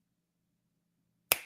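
A single sharp finger snap rings out near the end after near silence, close and crisp with a quick decay.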